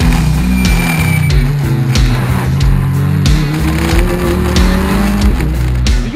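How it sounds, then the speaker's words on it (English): Mini Challenge race cars racing on a circuit, engines revving loudly and shifting pitch as the cars pass, with continuous roar and occasional gear changes, no talking. "The podium position settled, the race itself was far from over as Coates began to close on Bushell."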